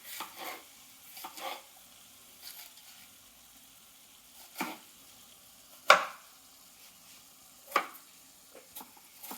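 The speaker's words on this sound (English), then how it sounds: "Cut small pieces as much as possible." A knife chops green chili and red capsicum into small pieces on a board, giving sparse, irregular sharp taps with quiet gaps between them.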